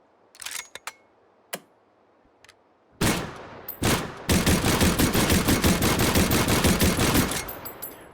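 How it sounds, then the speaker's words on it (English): A Lewis assault phase rifle fires in the VR shooter H3VR: a few scattered single shots, then a long, loud, close automatic burst lasting several seconds before cutting off. "Lewis assault phase rifle"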